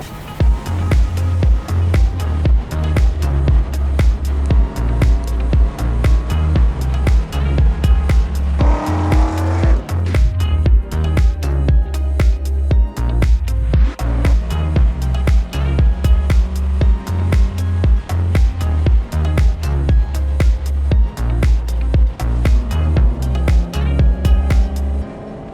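A 100-horsepower Toyota Yaris laps Buttonwillow race track, its engine buzzing loud and continuous through repeated upshifts and revs, with a sharp burst of tire squeal midway through a corner.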